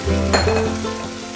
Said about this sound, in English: Some oil in the pot. Mussels in.